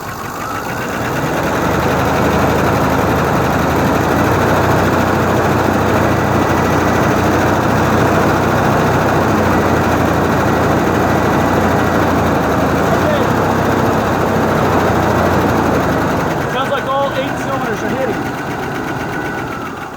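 A 1981 Chrysler Imperial engine, refitted with 1990 Dodge truck fuel injection and a failed idle speed motor, idles steadily and loudly up close with a dense, unbroken drone, shifting slightly near the end.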